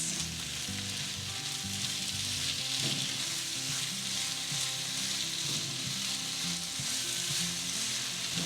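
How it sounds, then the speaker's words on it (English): Grated carrot halwa with sugar just added sizzles and crackles steadily in a hot pan while being stirred, a continuous close frying hiss with soft scraping and no talking. "And now let's give this a mix."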